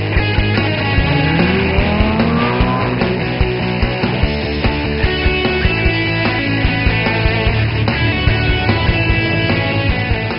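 A custom-built car from a Las Vegas kustom shop drives hard and close, its engine roaring loudly and steadily with rising and falling revs and brief tire squeals throughout.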